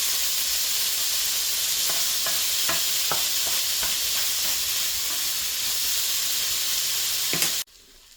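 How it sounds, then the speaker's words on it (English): Raw Cajun-seasoned shrimp cook in a pan over medium-high heat, giving a continuous loud sizzle and hiss with a few sharp clicks of a utensil, before the sound cuts off abruptly at the end. "with the raw shrimp, you want to let this cook for about, 4 to 6 minutes on a medium to medium high heat"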